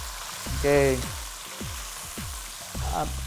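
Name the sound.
green chilies stir frying in a pan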